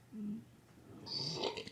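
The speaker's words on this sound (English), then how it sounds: "That was a good burp. That was a Cheez-It and beer burp." A faint, short burp after a snack of Cheez-Its and beer, rumbling low and then breaking into a raspy, breathy tail, heard alone in a quiet room.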